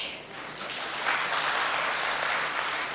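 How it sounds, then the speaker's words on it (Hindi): An audience applauding at a spiritual talk on happiness, a steady wash of clapping that swells after the first second and holds at a moderate level, heard from a little distance with no voices over it. "अब तो आपको अपने लिए पक्का ताली बजानी पड़ेगी"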